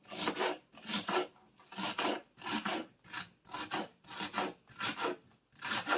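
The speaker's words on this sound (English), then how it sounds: "I'm going to cut up the celery here" Knife slices through celery on a new Farberware cutting board, eight evenly spaced crunchy rasping strokes in a steady rhythm, close and moderately loud with no talking.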